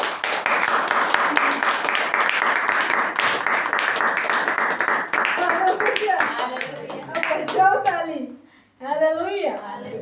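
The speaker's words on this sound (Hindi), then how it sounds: "अब बजाओ ताली" A church congregation claps loudly and continuously during a sermon, a dense wash of many hands that thins out after several seconds as voices and sung or spoken phrases rise over the last few clapping hands.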